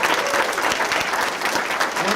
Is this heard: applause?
yes